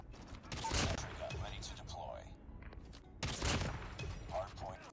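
DLQ sniper rifle shots in Call of Duty Mobile, two sharp loud cracks with ringing tails about two and a half seconds apart, with game noise and a voice talking in between.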